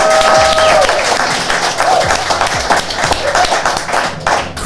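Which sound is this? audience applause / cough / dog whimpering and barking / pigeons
audience applause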